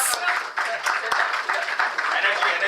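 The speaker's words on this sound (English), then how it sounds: "Can I hear a cheer from the room to see the energy that we've all put together" An audience at a stock exchange listing ceremony for Emmvee Photovoltaic Power Limited claps and cheers in a dense, continuous wash of hand claps and voices, with sharp individual claps standing out.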